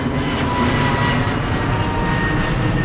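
An IndiGo airliner passes close overhead, its engines producing a loud, steady roar that fills the short moment with no talking.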